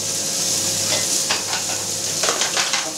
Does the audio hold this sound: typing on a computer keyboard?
no